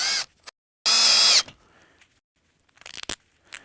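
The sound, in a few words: power drill screwing drywall onto resilient channel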